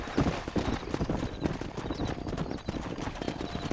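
Horse hooves gallop in Red Dead Redemption: a steady, close clip-clop rhythm runs throughout over a dense background of game ambience and music.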